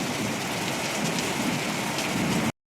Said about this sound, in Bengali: এই বৃষ্টি এলো, মেঘ ডাকছে দেখো কি জোরে